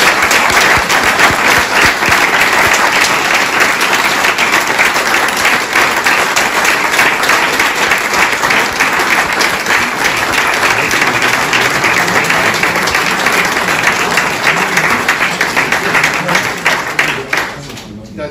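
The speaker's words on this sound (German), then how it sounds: "Das ist, glaube ich, nochmal ein Applaus hier." Sustained applause from an audience at a church square opening ceremony, dense steady clapping filling the space for nearly twenty seconds before tapering off at the end.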